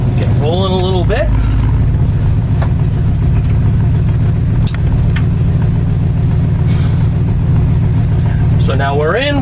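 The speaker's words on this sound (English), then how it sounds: "we're going to fire up the truck and we'll go for a ride" An old three-speed column-shift truck pulls away in first gear, its engine a steady loud rumble throughout, with people talking over it at the start and end.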